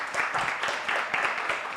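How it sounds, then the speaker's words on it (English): An audience at a town hall on Kenya's economic future applauds a radio host as she takes the stage, a steady dense wash of many hands clapping throughout, moderately loud and fairly close. "Let's give her a round of applause."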